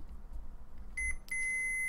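A multimeter gives its continuity beep as the test leads touch the cut, unlaminated edges of a carbon fiber multirotor frame part: two clear, steady electronic tones, a short one followed by a longer sustained one, close and alone.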